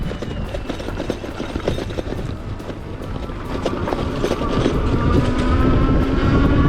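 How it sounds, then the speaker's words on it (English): An Engwe L20 2.0 e-bike is ridden at full throttle up a hill, its motor whine rising in pitch and volume under heavy, constant wind rumble. "Okay, let's go full throttle up the hill now."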